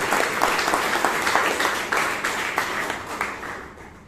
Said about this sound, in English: please give both of them a good round of applause